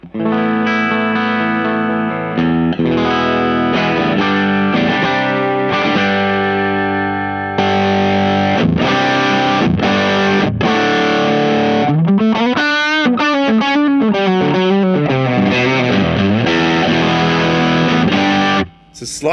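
Electric guitar played through a Crazy Tube Circuits Killer V overdrive pedal, loud and close, with sustained driven chords, then a wavering vibrato section and strummed, ringing notes, alone without talk.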